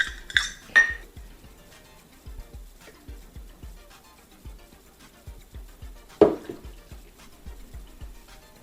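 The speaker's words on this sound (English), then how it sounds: "And we're gonna mix this all up and then heat it on low until we've got a nice paste." Ingredients for a flour, water and milk paste stirred together in a metal pan as part of an enriched bread recipe; a steady run of light scraping taps and clinks keeps time, with a couple of louder knocks and clatters near the start and midway.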